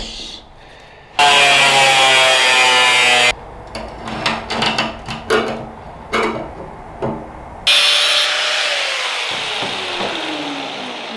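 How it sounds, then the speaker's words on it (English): Steel sheet from an ammo can being cut with a power tool in a workshop: loud sustained cutting whine in long bursts, with a stretch of choppy intermittent grinding between them, close and dominant with no talk. "we're going to cut more steel out of this"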